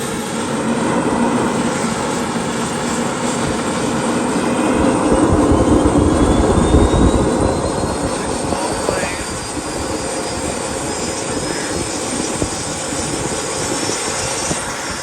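A Jakadofsky Pro Edition model jet turbine engine spooling up at startup, a loud, continuous roaring whine with a rising high-pitched tone sweeping across it, steady and close throughout.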